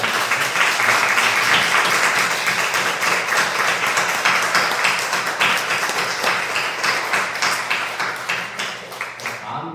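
A church congregation bursting into dense, vigorous applause during a Sunday service, many hands clapping loudly together before gradually thinning and fading near the end.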